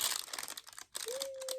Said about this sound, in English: Sorry for the crinkles.